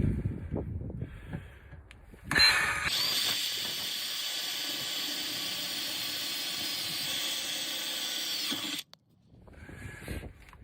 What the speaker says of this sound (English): Got all 4 pilot holes drilled